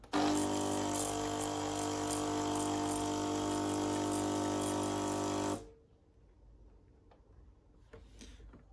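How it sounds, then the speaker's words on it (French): A Jura ENA 3 coffee machine pumps water through its system to rinse after descaling, a loud steady buzzing hum with running water for about five seconds, then stopping into quiet drips and small clicks. "Le but maintenant, c'est de rincer tout le système pour être sûr qu'il n'y ait plus de traces de produits de détartrage"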